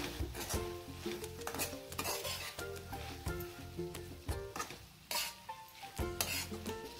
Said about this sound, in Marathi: आता हे सगळं आपण मिक्स करून घेणार आहे.